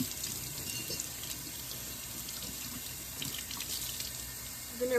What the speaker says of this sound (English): we're going to clean this out just using water